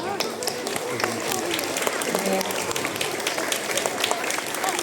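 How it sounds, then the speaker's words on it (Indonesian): Schoolchildren at a Monday flag ceremony at an elementary school in Surabaya clap for the sixth-grade class, a busy outdoor patter of many hands with background voices throughout. "Tepuk tangan untuk kelas 6 yang hebat."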